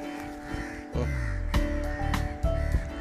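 An injured crow at a house caws repeatedly, several harsh, close calls spaced irregularly over a low background hum, with no talking during the calls.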